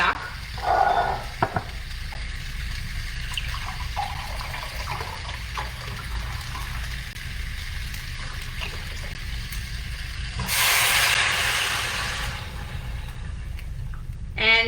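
Three cups of stock poured into a hot pan of creamy lemon orzo with summer squash give a loud, broad sizzling rush that lasts about two seconds. Stirring and quieter cooking sounds come before it.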